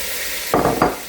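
Chicken for brown stew sizzles in a pot and is stirred, a steady frying hiss broken by two quick scraping stirs, close and loud.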